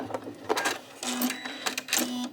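A sewing machine stitches a buttonhole in automatic mode late at night, giving close, steady, rhythmic mechanical whirring and clattering in short bursts.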